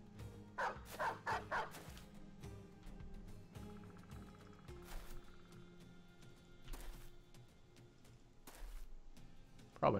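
War dogs barking in the video game Battle Brothers, several sharp bursts of barks and yips close together near the start, then scattered single barks over a low droning game soundtrack.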